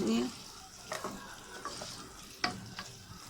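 Onion sautés in a pan with a soft continuous sizzle, while a spoon stirs with a few scraping strokes and one sharper knock against the pan; a brief hum opens the sound.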